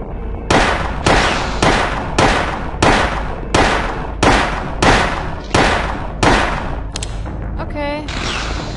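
Pistol shots in the PS1 game Silent Hill, set in the sewers: about a dozen loud, sharp reports in a steady rhythm roughly every half second, then a brief clicking and a rising electronic tone at the end.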